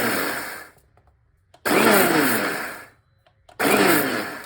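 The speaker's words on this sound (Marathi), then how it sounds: "आता हे तीळ थंड झालेले आणि हे मिक्सरवरनं कोर्स आपण हे करून घेऊयात।" Mixer grinder coarsely grinding roasted sesame seeds for tilgul vadi, two loud whirring bursts with a short pause between, the motor spinning down and starting again.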